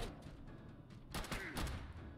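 Gunfire from a slow weapon in the video game Fallout Shelter, a few quiet scattered shots under a low game backdrop.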